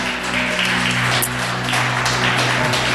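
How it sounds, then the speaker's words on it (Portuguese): A church congregation claps together during a service, producing a dense, continuous round of applause that stays loud and even from start to finish. "Você pode aplaudir Jesus Cristo?"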